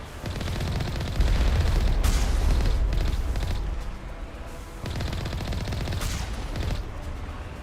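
Gunfire aimed at enemy artillery in Mass Effect, with rapid bursts layered over heavy rumbling booms that swell and fade in loud overlapping waves.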